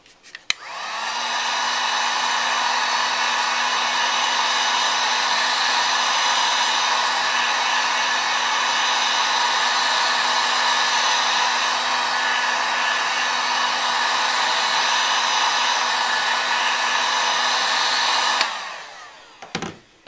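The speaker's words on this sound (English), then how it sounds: "Once your heat gun gets going, you don't really have to use it that long anymore because it's already heated up" Heat gun blowing hot air onto a bottle label, a loud, steady whooshing whine with a constant motor tone that spins up, runs unbroken for about seventeen seconds, then cuts off.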